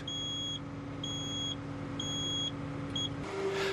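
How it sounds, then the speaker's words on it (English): A Volvo wheeled excavator's quick fit unlock warning buzzer sounds in steady repeated electronic beeps, about four evenly spaced tones over a low machine hum. "a buzzer sound can be heard to warn you that the"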